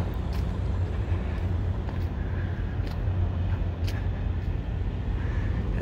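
A vehicle towing a camper on the way into Albuquerque, with a constant low engine and road rumble and tyre hiss at steady cruising speed, no voices.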